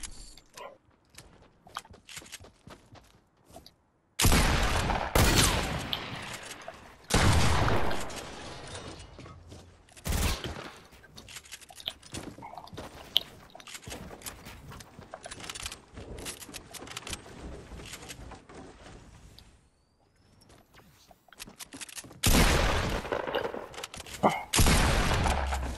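Gunfire in the video game Fortnite, including a heavy sniper: loud sharp bursts of shots with mechanical clicks and reloading between them over about 25 seconds; no talk.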